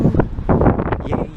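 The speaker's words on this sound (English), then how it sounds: "Windy." Gusty wind buffets the microphone outdoors on a sunny, windy day, making loud, continuous low rumbling bursts that swell and fade over a second and a half, with no voices.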